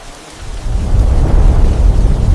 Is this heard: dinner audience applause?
no